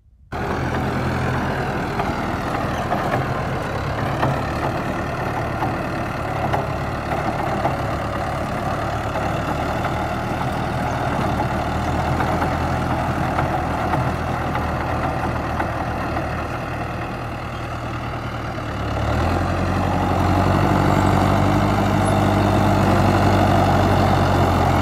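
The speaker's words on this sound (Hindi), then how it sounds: "भाई ट्रैक्टर को बिल्कुल पता भी नहीं चलता कि पीछे सीडर है" An Arjun Novo 605 tractor pulling a seeder runs with a loud, steady, close diesel drone throughout, and the engine note deepens and swells slightly near the end.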